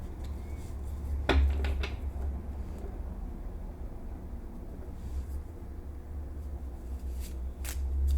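Steady papery rustling of tarot cards being shuffled, with a few sharper snaps and taps over a continuous low background hum.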